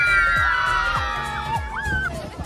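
Several people shout and whoop suddenly on Dungeshwari Mountain trail near Bodhgaya, loud rising and falling cries overlapping one another at close range.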